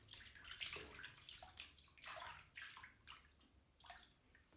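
Water sloshes and splashes in a bathtub as trombone parts are washed on a towel, soft, irregular bursts of swishing and dripping, close and quiet with no talking.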